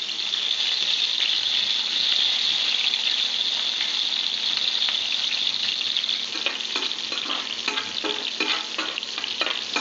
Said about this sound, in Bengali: জাস্ট পেঁয়াজটা হালকা ভাজা ভাজা করে নেবো